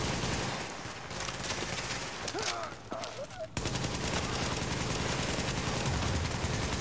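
Sustained gunfire rolls through a The Division 2 firefight at the Lexington Event Center, a dense crackling barrage with a brief lull and a few faint voices before it resumes loud and steady.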